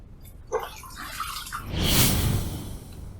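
Water splashes as a face is rinsed after a wet shave, a few soft drips first and then a fuller, close wash of water for about a second.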